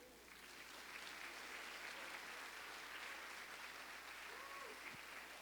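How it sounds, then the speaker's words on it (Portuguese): A church congregation applauding, steady dense clapping that holds at an even level throughout, heard from a distance and faint, with a few voices underneath. "Aplauda mais forte."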